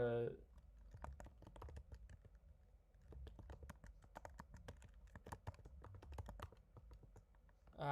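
Fingers type on a computer keyboard in steady bursts of quick, crisp clicks, close to the mic, with a voice briefly heard at the very start and end.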